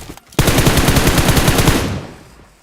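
M7 rifle fire in PUBG Mobile erupts as a loud, fast automatic burst of sharp, evenly spaced shots lasting about a second and a half, then tails off into a fading echo.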